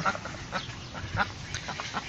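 Rouen duck and a hand-raised duckling on a French farm, giving a few short quacks and calls close by over a steady outdoor background.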